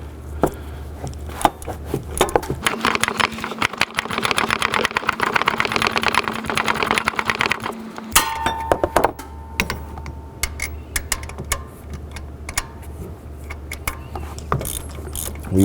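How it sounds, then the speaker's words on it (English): A ratchet with a 15 mm deep socket works an alternator bolt on a 2004-2009 Dodge Durango, giving close, rapid mechanical clicking in long runs with short pauses. "I'm going to go ahead and use a 15 millimeter deep socket and a ratchet on this alternator bolt right here."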